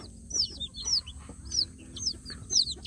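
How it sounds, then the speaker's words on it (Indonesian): Free-range village chicks, just hatched and freshly awake in the morning, give high, thin peeping chirps in a loose repeating rhythm of about five calls, close by over a low background hum. "baru bangun ini anak ayam kampungnya"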